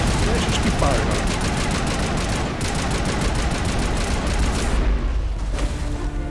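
Sustained gunfire from the Mass Effect video game during a fight on Virmire, dense rapid shots and booms running continuously with voices mixed in.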